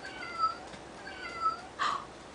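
A cat meows twice in drawn-out cries, then gives a shorter third mew, fairly close and moderately loud against a quiet background.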